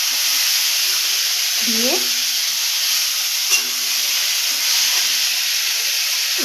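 Onions hit a hot wok for potato chilli and sizzle with a steady, loud frying hiss throughout, a single spoken word briefly heard over it.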